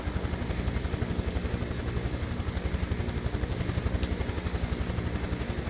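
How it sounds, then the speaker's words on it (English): A Huey helicopter flies over snowy Aspen, Colorado, with a steady, rhythmic thumping of rotor blades and an engine drone that goes on the whole time, and no talk. "Hopefully he can hear the helicopter."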